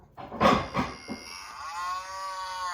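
A cow moos once, a long, close, drawn-out low call that fades with a steady tonal tail, with no talking over it.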